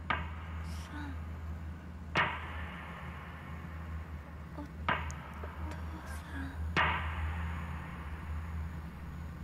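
Hammer striking wood in the video game Project Zero 4, with three or four sharp, separated knocks spaced a couple of seconds apart over a quiet, humming background.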